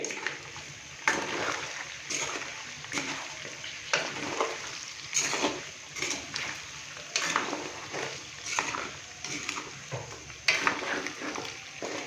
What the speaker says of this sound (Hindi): यहाँ पे हम बीफ को साबुत खड़े मसालों के साथ 1 से 2 मिनट के लिए अच्छे से भून लेंगे।